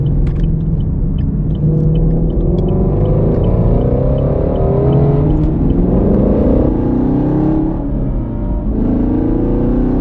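A Mustang GT350 or Camaro 1LE driven hard on a track, its engine roaring loud and close with continuous rumble and revving that rises and falls through the turns.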